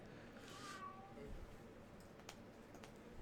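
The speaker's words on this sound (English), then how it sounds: "You hear the cats in the background meowing away" Cats meow faintly in the background of a quiet room, a few short cries rising over low murmuring voices.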